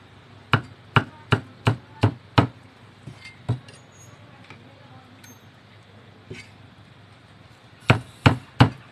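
A knife chops cooked beef into bite-size pieces on a board for a bitter Thai beef curry. The strikes come in a quick, even run, pause for a few scattered taps, then return in a short burst.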